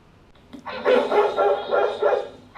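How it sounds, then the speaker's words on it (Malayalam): A dog barks several times in quick succession, fairly close and loud, after a brief quiet moment. "അപ്പോൾ ആ സമയത്താണ് അവിടെ പട്ടി കുറക്കുന്നേ"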